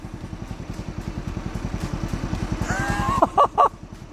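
A small tractor engine chugging steadily with a fast, even putter, followed near the end by a few loud sharp squeaks or clanks.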